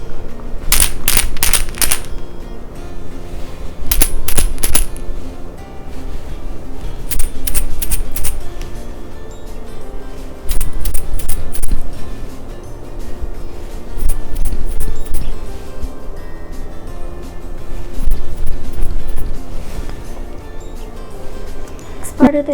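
Homemade Montessori sound cylinders are shaken one after another, giving short bursts of rattling and clinking in separate groups with pauses between them. Nobody speaks.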